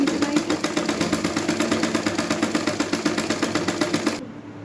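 A sewing machine stitching gota patti trim onto a palazzo runs in a fast, steady rhythmic whir for about four seconds, loud and close, then stops abruptly.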